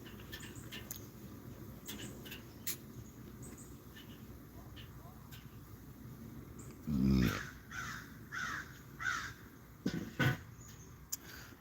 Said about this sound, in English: Oh, yes, the crows.